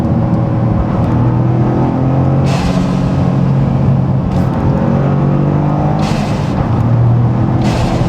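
Toyota GR Corolla with boost mods and a drop-in filter, heard from inside with windows up: steady loud engine drone with repeated bursts of turbo flutter, no voices.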